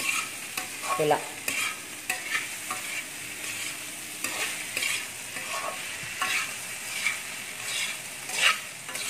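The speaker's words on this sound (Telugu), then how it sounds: "ఇప్పుడు మళ్ళీ మొత్తం కలయి తిప్పాలి." Sambar onions are stirred into a beetroot curry with ginger in a sizzling pan, giving repeated scraping strokes of a spoon over steady frying sizzle, with one brief spoken word.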